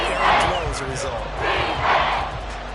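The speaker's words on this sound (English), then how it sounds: "the crowd getting into it as we come up on a big 3rd down" Stadium crowd in the Madden 24 American football game roaring and swelling in waves ahead of a big third down, a loud continuous wash of cheering.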